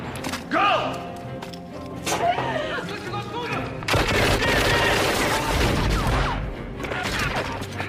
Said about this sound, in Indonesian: mereka ketahuan yang membuat Rainbow menembak hingga memancing tentara lainnya.